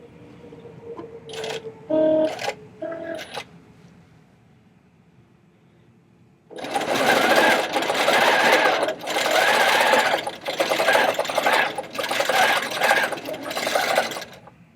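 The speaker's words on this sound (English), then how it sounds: "now we're just going to hit sew. And it's going to take it right there and sew it for us." A computerized quilting sewing machine stitches a quilt at a Grace factory sale, running in a loud, steady mechanical buzz with brief pauses after a few short clicks and beeps.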